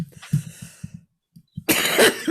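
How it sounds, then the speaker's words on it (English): Several short, close coughs in a quick burst, followed by a pause and then a louder, rough throat-clearing cough. "My cough."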